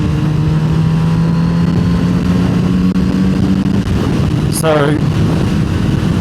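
Kawasaki Z900RS SE inline-four motorcycle engine during an overtake on an open highway, a steady droning tone that rises briefly near the end, heard under a rider's talking.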